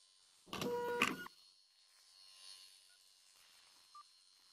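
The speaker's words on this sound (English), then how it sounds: "It's like a 3D printer or something." A 3D-printer-like machine in the Low-Fi VR game gives a short, loud burst of whirring, stepping mechanical noise lasting under a second, then fades into a quiet electronic hum with faint blips.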